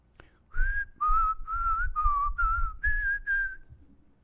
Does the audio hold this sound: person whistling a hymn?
yes